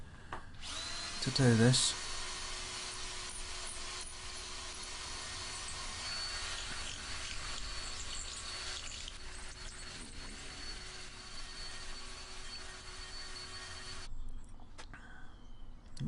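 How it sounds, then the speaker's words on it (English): A power tool grinds down a metal bottle opener, making a steady, loud, buzzing whine that runs for about twelve seconds and then cuts off. A brief voice is heard nearby. "I might have to grind that down a little bit"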